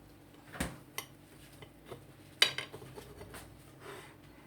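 A knife cuts Tunisian tajine on a plate, giving a few sparse clinks and taps of metal on ceramic with one sharper knock in the middle, close and fairly quiet, with no talk.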